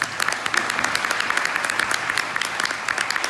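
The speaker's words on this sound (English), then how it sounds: "we need to give them another round of applause" Another round of applause rises from the audience at a women's club 50th anniversary celebration, steady dense clapping with crisp individual claps audible throughout, moderately loud and unbroken.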